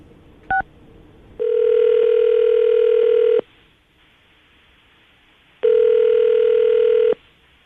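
A telephone call being placed: one short keypad beep, then two long steady electronic tones separated by a few seconds of quiet line, clear and close with no voices.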